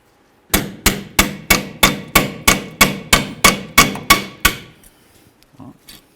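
Fifteen sharp metallic hammer strikes ring out in a steady rhythm, loud and close, while brake pads are knocked free from the caliper of a 1994-2004 Chevy S-10, then stop before a few faint clinks.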